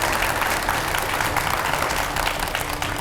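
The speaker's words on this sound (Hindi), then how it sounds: "एक बार जोरदार तालियों के साथ स्वागत कीजिए देवकीनंदन जी महाराज का।" A studio audience applauding, a dense, loud, steady wash of clapping that fills the whole short stretch without pause.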